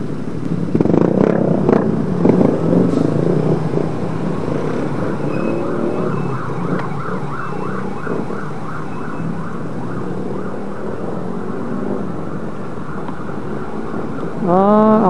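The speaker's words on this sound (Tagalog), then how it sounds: "Yan, may ambulansya na." An ambulance siren at a road accident scene near a resort in Majayjay, Laguna wails in rising and falling sweeps under road and vehicle noise, with voices talking early on and a louder siren sweep at the end.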